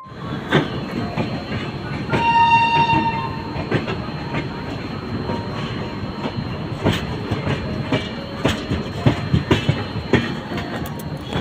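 A passenger train heading toward Dakshineswar rolls along with steady rumbling and rhythmic clickety-clack of wheels, a brief horn-like tone rising midway, heard close and loud throughout.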